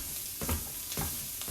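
Precooked sausage sizzles as it warms in a pan on a stovetop. A steady frying hiss runs throughout, broken by several short scraping stirs of a utensil, with no talking.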